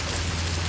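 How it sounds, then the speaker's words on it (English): Hail pouring down in a storm in Greeley, a brief dense hiss of many tiny impacts with a low rumble beneath, loud and continuous. "I really thought it was rain, not hail."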